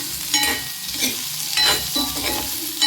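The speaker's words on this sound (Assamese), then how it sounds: "তাৰপিছতে দি দিছোঁ হাফ বইল কৰি লোৱা বাদামী আলুখিনি সেইখিনি এতিয়া ভালদৰে ভাজি লৈছোঁ" Half-boiled potatoes sizzle in a pan with onion and green chilli while being stirred, producing a steady close-up fry with rhythmic stirring scrapes about every half second.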